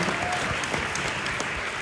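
An audience at a business talk breaks into a continuous wash of clapping that holds at a steady level from start to finish.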